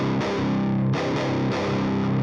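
An unprocessed DI electric guitar track plays a tight rhythm part, with several sharp chord attacks cutting through a dense, sustained tone.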